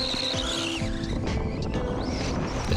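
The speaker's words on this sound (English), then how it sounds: "let's have a look at the Terra Scorcher with a 2S Lipo battery" A Tamiya Terra Scorcher RC buggy on a 2S LiPo battery drives on grass. Its electric motor gives a steady, high whine that rises and falls in pitch, with no voices.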